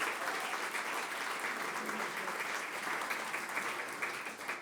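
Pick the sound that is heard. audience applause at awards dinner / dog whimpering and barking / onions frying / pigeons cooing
audience applause at awards dinner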